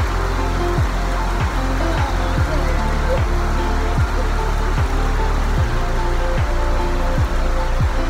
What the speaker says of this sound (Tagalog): so umulan ngayon dito